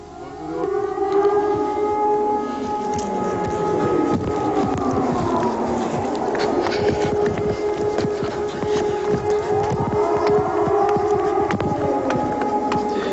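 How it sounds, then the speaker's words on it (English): A wailing air raid siren in Israel during the Gulf War rises and falls in long sweeping tones, loud and continuous, with no voices over it. "The air raid siren shattered the silence"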